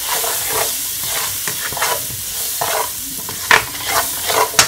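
Fish seasoned with jerk seasoning and black pepper sautés in a pan, with a close sizzle and repeated stirring scrapes and clatters of the utensil against the pan.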